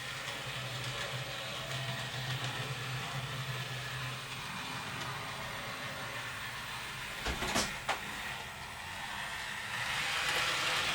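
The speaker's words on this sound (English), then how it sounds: "And we'll just make sure that the loco bridges the gap." N gauge model locomotive running over a dead track section: a faint, steady whirring hum with a brief clatter and knock partway through, then the hum carries on.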